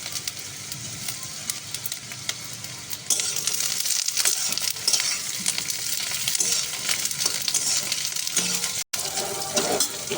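Chopped capsicum stir-fried with crushed ginger and garlic for crispy chilli baby corn, a sizzle that suddenly grows louder as the vegetables hit the pan, with scraping stirs and crackles throughout.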